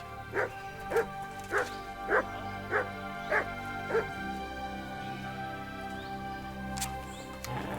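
Mutt the dog barks in Kingdom Come: Deliverance II, about seven evenly spaced bow-wow barks at close range over a steady ambient bed, then a short quieter stretch with a faint bird call.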